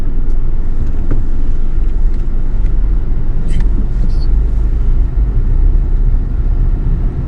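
A car drives and pulls in to park on a street in California, its engine and road rumble steady and loud throughout, with faint brief chirps in the background.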